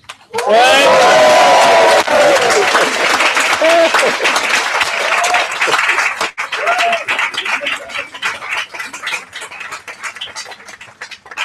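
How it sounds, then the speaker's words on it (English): A conference audience at a panel debate cheering and applauding loudly, dense clapping with whoops and shouts sustained for several seconds, then thinning into scattered claps with voices talking over it. "We give a huge cheer."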